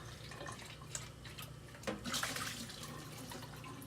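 Water running through milking hoses on a cow-milking setup to rinse them, a soft steady flow with a few splashy gurgles and drips, close and quiet.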